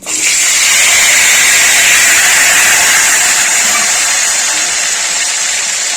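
Potatoes dropped into hot oil with five-spice in a pan, a loud, steady, bright sizzle that starts suddenly and hisses on evenly throughout without talk.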